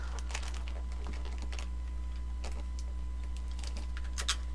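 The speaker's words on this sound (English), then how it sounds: "And then just fold that flap up" Gift wrapping paper being folded up over the end of a box, giving faint, scattered crinkles and soft papery rustles against a steady low hum, with no talking.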